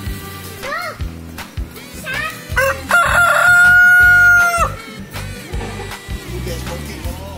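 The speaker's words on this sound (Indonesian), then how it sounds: "Ayam." A rooster at a small family zoo in Bogor crows loudly once nearby, a long drawn-out call, with clucking fowl around it and children and adults chattering throughout.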